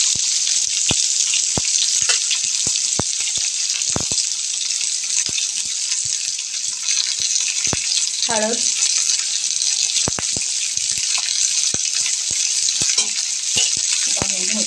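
Onion sautéing in a pan for vada bhaji, a steady loud sizzle running throughout with sharp utensil taps and clicks scattered across it and a brief scraping stir midway.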